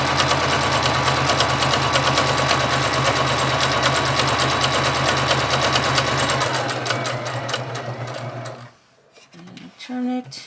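A sewing machine runs steadily at close range for about eight seconds, stitching around the edge of a junk journal page with a decorative stitch, then stops and leaves a near-quiet pause with faint handling.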